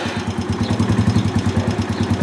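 An Italika TC 200 motorcycle engine with a freshly cleaned carburetor idles close by, with a steady, rapid low putter and even throbbing pulses and no voices over it.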